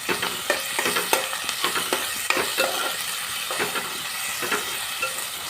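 Green chillies and fenugreek leaves frying in a pan, with a continuous sizzle broken by frequent stirring clicks and scrapes close by.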